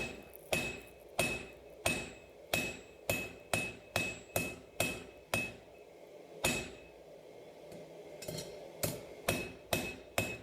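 A 32-ounce hammer strikes a warped steel knife spine in a steady rhythm of sharp metallic blows, ringing with a bright clang, pausing briefly midway before resuming.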